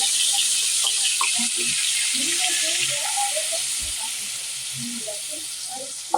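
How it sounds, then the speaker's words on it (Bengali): Onion paste sizzles and fries in a pan for a lentil dumpling curry, a steady close hiss with small crackles and pops throughout. "এই যে এখন আমি পেঁয়াজ বাটা দিয়ে দিতেছি"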